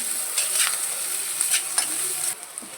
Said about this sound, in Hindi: मिर्ची और प्याज तो फ्राई हो गए